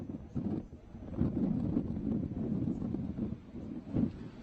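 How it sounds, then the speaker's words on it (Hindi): Strong wind buffets the microphone at Marina Beach in Chennai during heavy rains, with high sea waves surging behind, a continuous low roaring rumble that rises and falls with gusts. "हम देख रहे हैं आपके पीछे तेज हवाएं चल रही हैं, सागर की लहरें उफान पर हैं।"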